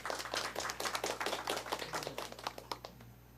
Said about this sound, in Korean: 큰 박수로 모셔주시기 바랍니다